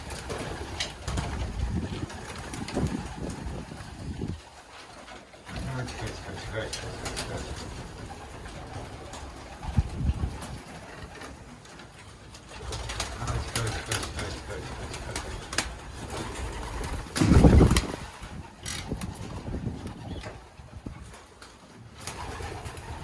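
Pigeons coo repeatedly in the background while people talk and call out nearby, with occasional rustles and a loud thump.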